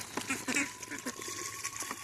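A flock of about 80 ducks on a duck farm quacks in overlapping, irregular bursts, moderately close but fairly quiet, with calls continuing throughout.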